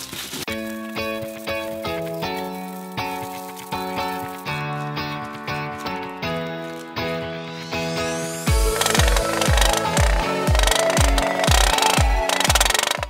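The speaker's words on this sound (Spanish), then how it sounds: "ya llevamos martillando un buen rato" Repeated hammer strikes on an aluminum foil ball ring out in a steady rhythm over music, then turn into heavier, duller thuds toward the end.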